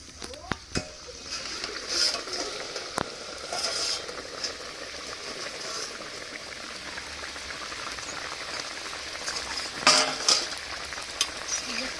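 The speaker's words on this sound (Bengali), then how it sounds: "মাছ দিয়ে ঢাকা দিয়ে পাঁচ মিনিট ফুটিয়ে নিয়েছি এবার ঢাকা তুলে নেবো" Fish curry with tamarind leaves and local puti fish bubbles in a covered pan, a steady soft simmering hiss with occasional pops and clinks, heard near and moderately quiet.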